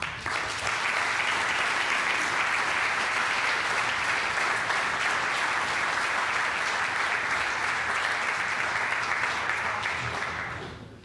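A crowd applauds Hall of Fame inductees at a Mason Comets ceremony, a dense, sustained round of clapping that holds steady for about ten seconds before tapering off.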